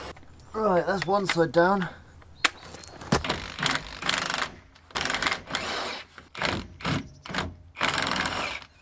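A ratchet with a 19 mm socket works on the leaf spring bolts of a van during suspension repair, giving quick repeated clicking bursts at close range, separated by short pauses, with someone speaking briefly near the start.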